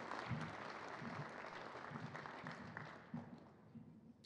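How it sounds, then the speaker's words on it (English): An audience at a college celebration honoring a national championship team breaks into applause after a prayer, a fairly distant, moderate wash of clapping that thins toward the end, with faint murmuring voices underneath. "It's always that awkward moment when people decide whether you can applaud for a prayer."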